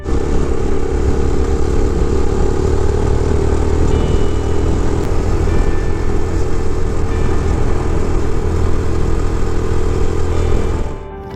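A motorcycle cruises along a mountain road in northern Pakistan, its engine droning loudly and steadily with wind noise for the whole stretch, ending abruptly.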